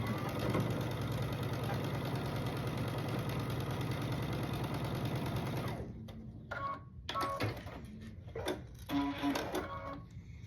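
A sewing machine stitches a quarter-inch quilt seam in a steady, near mechanical hum for about six seconds, then stops, leaving soft handling and rustling of fabric.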